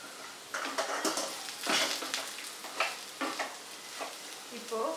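Potato pieces frying over high flame in a nonstick pan, a close sizzle broken by repeated bursts of scraping and stirring, with no talk over it.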